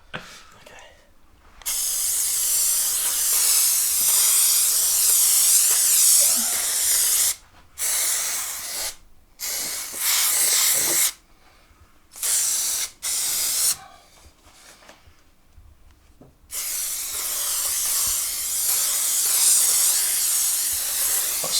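An aerosol can sprays in long hissing bursts, stopping and starting several times with short silent gaps, close and loud, while a 2001 Subaru WRX headliner is being replaced.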